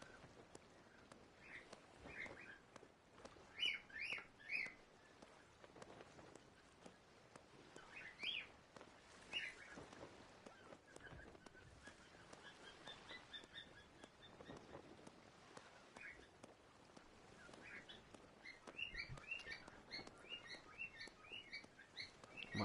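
A pet bird chirps and sings throughout, with short bright calls and trills recurring over a busy background of game sounds and noise, at a moderate level.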